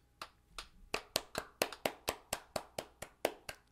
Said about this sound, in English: And there was a slight applause.